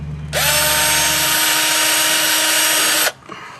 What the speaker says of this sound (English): we're going to drill through it real quick, just to clean it up